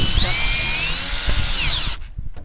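A power drill set to slow speed drives a screw during greenhouse construction. The steady, loud motor whine holds for about two seconds, then cuts off sharply, leaving a faint low rumble.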